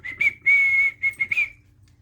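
A person whistles a series of clear, high notes: a short note, a long sustained tone, then several quick chirps. The whistling is close and alone, with no talking.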